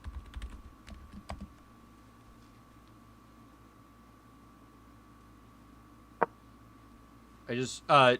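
Brief keyboard typing at the start, a few soft clustered keystrokes with a single sharp click later, then a short burst of speech near the end over a steady low hum.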